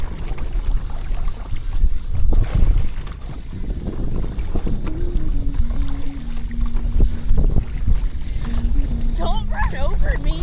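Paddle boarding on Coldwater Lake in Castle Rock, Washington: paddle strokes slosh and splash in the water at close range, with wind buffeting, under people talking.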